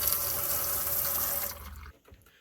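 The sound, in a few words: water running from camper faucet for hand washing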